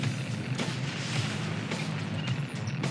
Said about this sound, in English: those missiles are relentless